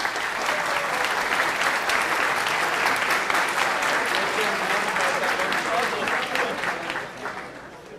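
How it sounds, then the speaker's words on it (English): Loud, sustained applause from a conference audience for the organizers, dense steady clapping filling the room before tapering off near the end. "I'd like to ask you for a big applause for the organizers"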